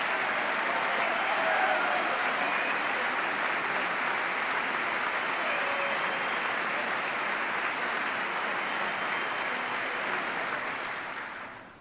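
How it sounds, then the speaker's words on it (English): Long, dense applause from a large audience in the House chamber during the 2010 State of the Union address, holding steady for about ten seconds before fading out. "I thought I'd get some applause on that one."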